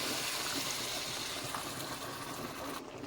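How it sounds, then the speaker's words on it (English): Water being poured into a pan of Jamaican-style chicken livers, a continuous rushing gush close by that stops abruptly near the end. "So I'm gonna add some water to it."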